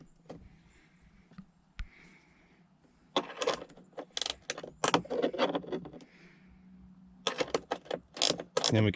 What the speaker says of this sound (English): Then we can tighten the nut up.